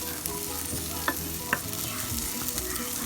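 Cumin seeds crackle and sizzle softly in hot oil on low heat while being stirred, with a few sharp scrape-like clicks from the spoon against the pan, steady and close.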